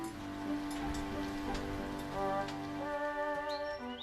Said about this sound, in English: The rain pelted down.